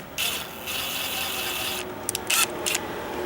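An old drill bit is turned by hand to bore a hole for a flag pole, giving a close, quiet ratcheting grind that runs steadily and then breaks into a few short scraping bursts.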